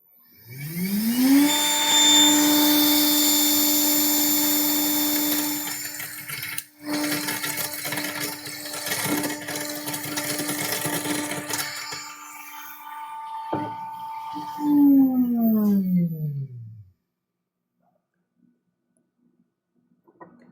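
A ZM300 mill grinds a food sample in continuous mode with a 0.75 mm ring sieve, spinning up to a loud, steady high whine with rattling as material feeds in, then winding down in pitch and stopping into silence.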